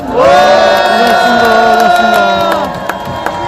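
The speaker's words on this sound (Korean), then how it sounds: "여러분들의 힘찬 박수와 함성으로 마치겠습니다" Protesters at the 1444th Wednesday rally over the Japanese military sexual slavery issue raise a loud, sustained cheer together, a strong unified shout with scattered claps that fades after about three seconds.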